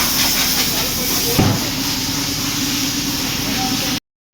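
A high-pressure water jet sprays a truck at a vehicle water-service wash bay, making a loud, steady hiss that runs without a break, with one brief knock partway through before it suddenly stops.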